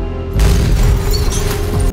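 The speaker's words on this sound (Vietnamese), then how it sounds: "người cha đưa cho cô con gái một khẩu đại bác nhắm bắn xuống chiếc xe dưới đường" A cannon in a film scene fires at a car on the street below, a single loud booming blast that rolls on with a heavy low rumble.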